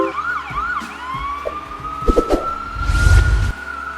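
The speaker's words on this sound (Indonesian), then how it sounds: "ketika ambulans lewat" An ambulance siren wails through a traffic jam in China, its rising and falling tone sweeping steadily over engine rumble, which swells loudly near the end as vehicles pass.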